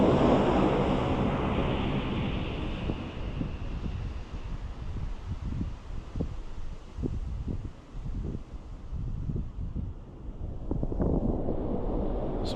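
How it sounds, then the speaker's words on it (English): Strong wind gusts across open water, buffeting the microphone with a steady low roar and rushing hiss, with occasional soft slaps of small waves beneath. "the wind is blowing pretty good"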